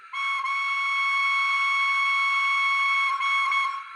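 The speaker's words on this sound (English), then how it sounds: "that is, of course, the playable whistle" A steam train's playable whistle gives one sustained, bright multi-tone blast, steady and loud with a brief dip near the start and end, alone without any voices.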